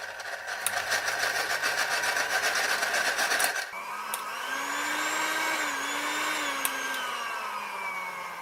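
A Philips kitchen mixer's motor runs steadily after maintenance, a loud continuous whine that drops in pitch partway through and then settles into a smoother, slightly wavering hum.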